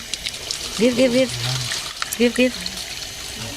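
Water poured into drinking glasses during an indoor gathering, a soft splashing trickle in short bursts beneath nearby conversation.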